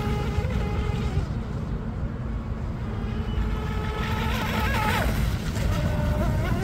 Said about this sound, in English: It's full throttle the whole time. Really pushing the setup now.